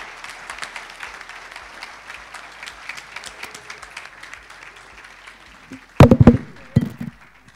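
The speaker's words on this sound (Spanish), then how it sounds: "Un aplauso enorme para Damián." Audience applause at a real estate developers' expo session honoring Damián, a steady patter of many hands sustained for several seconds, followed by a few louder, closer thumps and bursts near the end.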